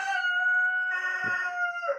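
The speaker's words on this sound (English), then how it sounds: "you can hear my chicken" A rooster crowing nearby during woodworking on a custom rustic door, one long strained cock-a-doodle-doo that stretches across the whole stretch, loud and clear with no talk over it.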